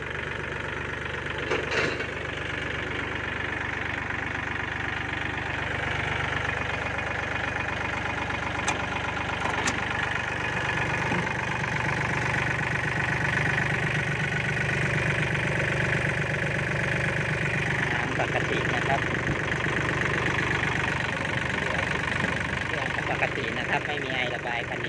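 A tractor's diesel engine idles with a steady low rumble and knocking beat, close by, while someone talks over it intermittently.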